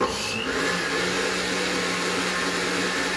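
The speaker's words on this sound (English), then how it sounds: "I guess we're going to hit the blender smoothie setting again." A blender on its smoothie setting churns milk powder with milk, a loud steady motor whine with a constant hum and no voices over it.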